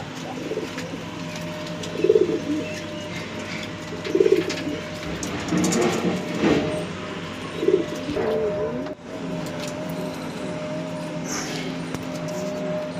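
Pigeons coo in soft repeated bursts at close range over a constant low hum, about four distinct coos spread across the stretch.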